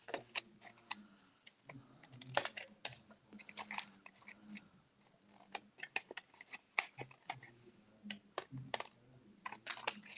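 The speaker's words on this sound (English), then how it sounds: "cut off all these pieces that extend beyond our cardstock" Scissors trim designer paper scraps flush with a cardstock card base, giving quick, repeated crisp snips in an irregular rhythm, close and quiet, with no talking.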